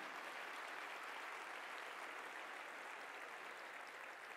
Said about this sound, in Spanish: yo les pido un aplauso para todo el sector salud en este momento